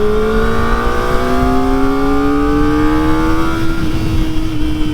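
A Kawasaki ZX-4RR with a 400cc four-cylinder engine revs hard and winds up steadily, its high-pitched, smooth whine rising in pitch over several seconds, loud and close, with no talk.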